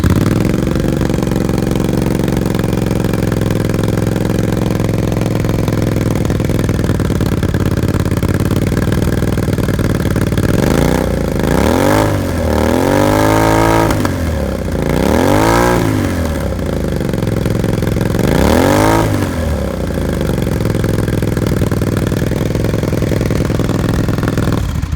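A Suzuki SV650 motorcycle engine idles steadily, then revs sharply through its exhaust several times in quick bursts, loud and close.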